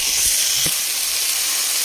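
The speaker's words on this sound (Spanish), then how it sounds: "Ahora pongo a freír papa y zanahoria." Potato and carrot chunks frying in a pan of oil give a steady close sizzle and hiss throughout, with a couple of brief low clatters near the start.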